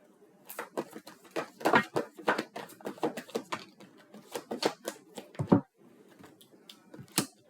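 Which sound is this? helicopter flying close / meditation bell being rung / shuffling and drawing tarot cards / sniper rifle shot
shuffling and drawing tarot cards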